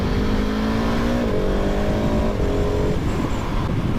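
A Husqvarna 701 Supermoto single-cylinder motorcycle engine drones loudly and steadily on a test ride, its pitch stepping up through gear changes under heavy wind rush, close and continuous with no speech.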